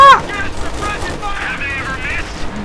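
Bursts of gunfire in the World War II strategy game Company of Heroes 2 crackle through a busy mix of in-game sound and background chatter, with a sharp loud shot at the start.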